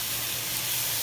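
Ground beef browning in a pan gives off a steady, close hiss, an unbroken bright sizzle with no talking.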